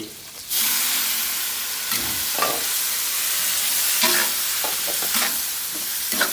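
Leftover grilled beef stir-fried with holy basil for pad kaphrao hisses loudly and continuously in a hot pan, with several brief scrapes of the spatula standing out from the sizzle.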